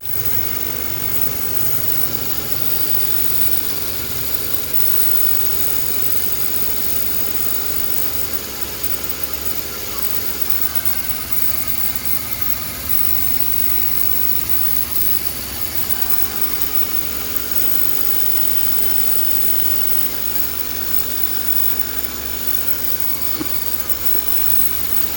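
A car engine idles steadily while warming up before an oil change with Delo Gold, a continuous close rumble with even vibration and no change in pitch throughout.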